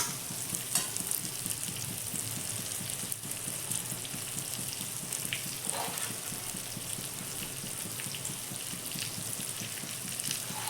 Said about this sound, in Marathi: दोन मिनटं आपण असंच परतून घेऊ याच्यामध्ये.